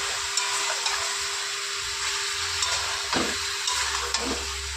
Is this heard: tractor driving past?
no